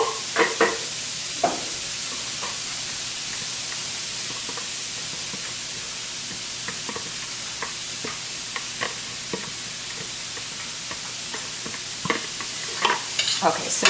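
Cauliflower cooking down in a pan for grain-free vegetable fried rice, a constant hissing sizzle with occasional scraping stirs and spatters, close and alone without voices.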